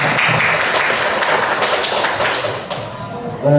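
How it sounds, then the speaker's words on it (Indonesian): Dense, loud applause for the teachers at a high school event in Indonesia, a continuous close clatter of many hands that thins slightly near the end. "Tepuk tangan dulu untuk guru penggerak kita."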